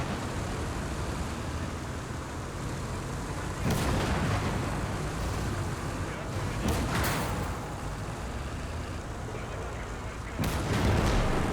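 Artillery guns boom in the World War II strategy game Gates of Hell, several heavy blasts landing a few seconds apart over a constant rumble of battle, loud and close.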